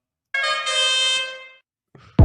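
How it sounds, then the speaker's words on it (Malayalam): A vehicle horn sounds once, loud and close, a single sustained tonal blast lasting about a second before cutting off, followed by a brief faint noise and a sharp burst at the end. "ഞാൻ ഈ ആദ്യമായിട്ട് ഈ ഹോൺ കേൾക്കണത്"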